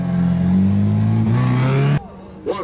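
A car with a naturally aspirated engine revs hard and steadily during stunt maneuvers, loud and close, its pitch climbing slightly before the throttle cuts off abruptly near the end, leaving a brief quieter tail.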